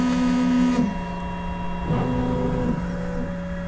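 An UP BOX 3D printer carries out auto-levelling calibration on a perforated build board, its stepper motors whining in steady tonal runs that stop and restart, with a close, continuous mechanical hum between the movements.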